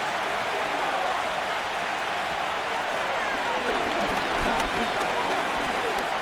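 A stadium crowd in an American football video game roars steadily ahead of a third down, a broad continuous wash of cheering with no commentary over it.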